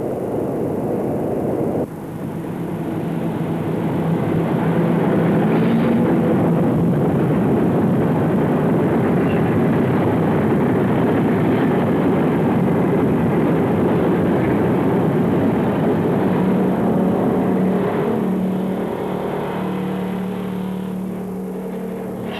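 A 13-car, 1,027-ton test train crosses a long suspension bridge from the Honshu side toward Shikoku. Its deep, continuous rumble and roar rise after a brief lull and hold steady for around twenty seconds, with no talk.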